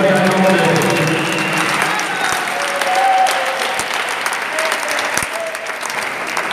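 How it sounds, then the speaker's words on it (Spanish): A church congregation at a wedding ceremony breaks into sustained applause, dense clapping that gradually thins, with voices faintly mixed in. "Sus aplausos, amados"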